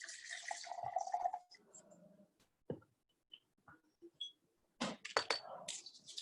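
Wyoming Whiskey single barrel pouring into a glass, a short gurgling stream followed by a few faint drips and light clinks, close and quiet.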